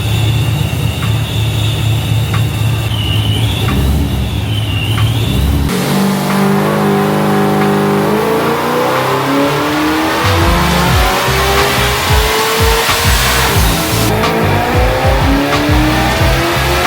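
Toyota Corolla engine on a dyno, revving loud and close through rising and falling pulls with a sustained high-rpm run and shifts, continuous and without talk.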